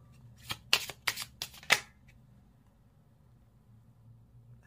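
A deck of fortune-telling cards is shuffled in several quick, crisp riffles close by, then there is near silence apart from one last brief tap at the end.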